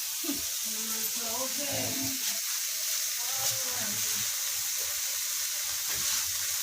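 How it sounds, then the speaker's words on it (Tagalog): Onions and garlic sautéing in a pan, a steady close sizzle with stirring scrapes throughout, while voices talk over it. "Sangkutsayin po natin mabuti yung mga sibuyas, bawang."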